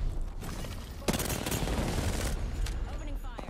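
Rapid gunfire from a video game, dense bursts of shots rattling loudly for several seconds, overlapping and continuous with sharp onsets and a steady roar beneath.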